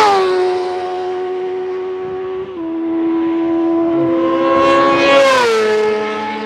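A fast vehicle on a race track during a track day gives a loud, sustained engine whine that holds steady, dips in pitch and then climbs and swells near the end as it comes past close by.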